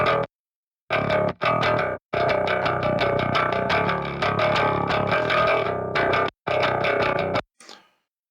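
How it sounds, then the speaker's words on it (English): Heavily distorted metal bass riffing, loud and dense, played in bursts broken by short silences, with a brief fading tail at the end. "you get a constant distorted sound no matter how hard the bassist is picking"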